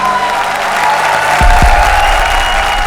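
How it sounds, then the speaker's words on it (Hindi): Studio audience on a comedy show breaks into sustained, dense applause, loud and continuous throughout, with a couple of low thumps partway through. "तो एक बार जोरदार तालियां हमारी तीनों जोड़ियों के लिए।"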